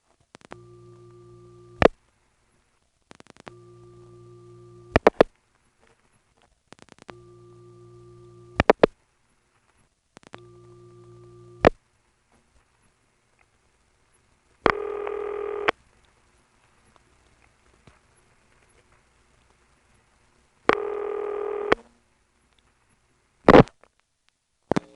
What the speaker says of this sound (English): So that's the best I can do to explain the kind of noises that we hear as we're putting a call through the local tandem.